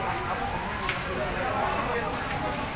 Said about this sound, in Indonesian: Api semakin membesar,